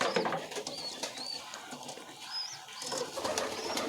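Pigeons at a home loft coo and shuffle around feeding time, with faint wingbeats and chirpy calls mixed into a busy, moderately close backdrop.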